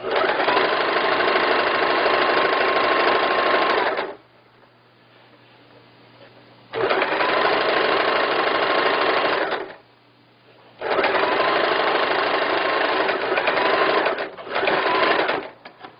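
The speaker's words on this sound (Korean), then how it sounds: "두 번 접어서 당겨가면서 박음질 하시면 됩니다" A sewing machine stitches a double-folded hem on a floral skirt, loud and close, in three long runs of rapid steady whirring separated by short quiet pauses, with a final brief stop-and-start burst.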